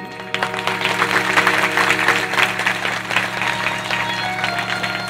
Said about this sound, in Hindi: तो आप लोग ताली बजाकर इन सबका भी